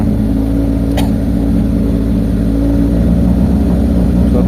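A Mitsubishi Lancer GLXi engine idles loud and close just after a cold start, a steady rough rumble with no speech.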